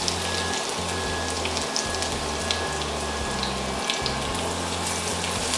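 Chopped garlic dropped into about one and a half tablespoons of hot oil, a steady close sizzle and crackle, with low rhythmic bubbling from a pot steaming nearby in the background.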